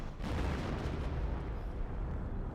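Artillery barrage in Company of Heroes: a dense, continuous rumble of overlapping distant blasts rolling on steadily throughout, with no voices.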